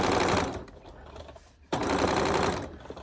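A sewing machine stitching fringe on jeans for bell bottoms, with two loud runs of rapid mechanical needle chatter separated by a short quiet pause.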